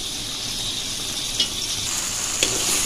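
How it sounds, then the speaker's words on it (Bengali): Fish head sautéing in a pan with water and onion greens, a steady close sizzle and bubbling with a couple of stirring scrapes. "দিয়ে আবার ভালো করে কষিয়ে নিচ্ছি মাছটা"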